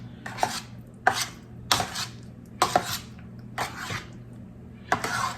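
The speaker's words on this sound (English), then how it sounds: "get those eggs stirred up in it good" Eggs are stirred into cornbread dressing in a pan, making about eight rhythmic, fairly close knocks and scrapes of a utensil against the dish, spaced under a second apart over a low background hum.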